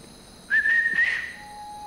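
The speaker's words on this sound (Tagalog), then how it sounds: "Yun na naman yung mga sipol-sipol na yan." One person whistles a short rising-then-sliding tone, clear and close, held for under a second, then fading to a faint steady tone against quiet surroundings.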